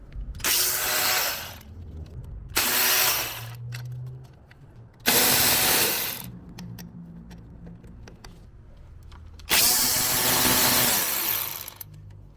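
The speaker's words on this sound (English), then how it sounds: "Now he's going to remove the 12mm bolts that hold the throttle body to the plenum." Four bursts from a power tool, probably an impact wrench or ratchet, loosening the 12mm bolts holding a throttle body to the plenum on a 22RE engine, each run lasting one to two seconds with quieter pauses between.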